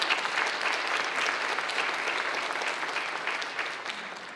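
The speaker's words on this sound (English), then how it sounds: "I would like to just give them a round of applause for helping to round us up today." An audience at a dropout prevention breakfast applauds, dense steady clapping from many hands that fades slightly toward the end.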